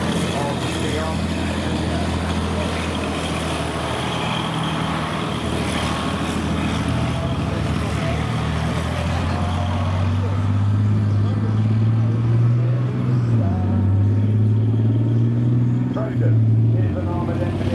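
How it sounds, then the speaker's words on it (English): A Titan armoured engineer vehicle drives around a Tankfest 2017 arena, its engine droning steadily and rising to a louder, deeper growl later on, while a commentator speaks throughout. "Is an armoured engineer vehicle designed to open routes through complex battlefield obstacles and to clear and pass through minefields."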